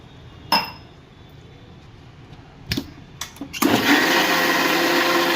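A mixer grinder whirs as it grinds chutney thinned with extra water, starting loud after a few clinks and taps of the jar and lid and running steadily to the end.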